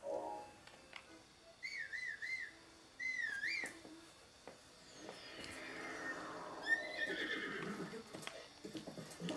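A horse whinnies in The Legend of Zelda: Breath of the Wild in rising and falling squeals over hoofbeats and a steady outdoor background, with a long sliding tone partway through and no speech.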